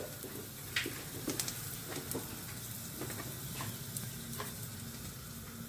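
Garlic cloves frying in a pan for a creamy chilli prawn pasta: a steady close sizzle with scattered light clicks and scrapes from stirring, no voices.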